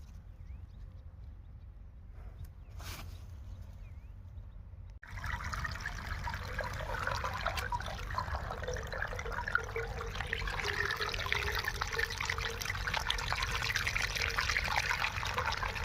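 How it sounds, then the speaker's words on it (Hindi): Water beginning to run from a pipe: a faint quiet stretch gives way to a steady, moderately loud rushing and splashing flow that continues without a break. "अब पानी आने वाला है।"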